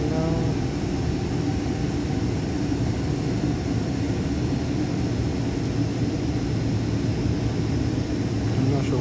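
Cabin of a Delta airliner as it taxis and turns to line up for takeoff at London Heathrow: a steady, loud engine roar and rumble with no break.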